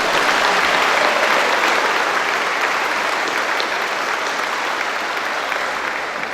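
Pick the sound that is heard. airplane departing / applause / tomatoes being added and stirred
applause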